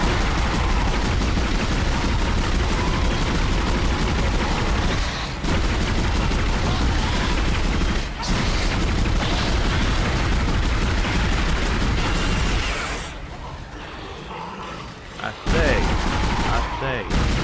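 Plasma rifle fire in Dead Space, a dense, loud, sustained barrage of shots and blasts broken by brief pauses, with a quieter lull before the firing resumes.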